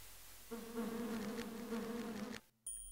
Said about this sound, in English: I guess the bees are just a noise.